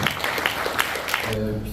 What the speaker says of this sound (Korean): 앞으로 나오시면 박수로 환영해 주시면 감사하겠습니다.